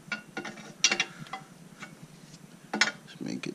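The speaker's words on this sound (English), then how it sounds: "And then we're gonna use a wrench, 7/8." A 7/8 wrench snugging a bolt, with intermittent metallic ratcheting clicks and clanks in short bursts, close and fairly quiet, separated by pauses.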